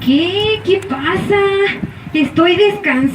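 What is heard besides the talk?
No everyday noises stand out.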